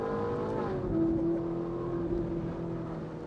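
A high-revving Ferrari V8 sports car with a wailing sport exhaust note holds a steady pitch after a brief shift, moderately distant, with no talking.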